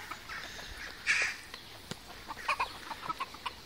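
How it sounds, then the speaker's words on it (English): Chickens cluck in the farm-animal area of Skopje Zoo: a series of short, fairly faint clucks that cluster in the second half over a low outdoor background. "Chickens."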